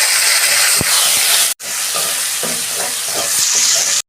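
Ground ginger, garlic and dried red chilli paste fries in a hot pan for a cauliflower and potato dish, giving a loud, steady sizzle with brief stirring scrapes and a short break partway through.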